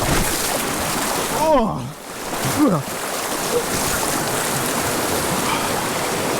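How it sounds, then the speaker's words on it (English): A person falls face first into a mountain creek, making a splashing plunge over steady rushing stream water, followed by a second splash and a brief exclamation. "I just fell face first into the water."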